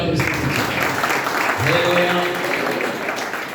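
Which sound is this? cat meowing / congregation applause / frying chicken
congregation applause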